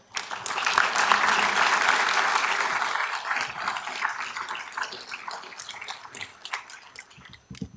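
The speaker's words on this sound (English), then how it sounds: "Let's give them all a big round of applause." An audience applauding at a white coat ceremony for dental students, a dense burst of clapping that swells quickly and then thins into scattered claps as it fades, heard indoors at moderate distance.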